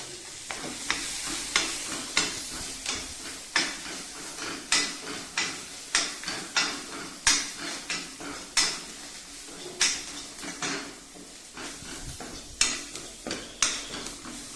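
Green chillies and onion fry in a pan for aloo bharta, sizzling softly under repeated sharp metallic scrapes and clinks of a utensil against the pan, coming in an uneven rhythm about once a second.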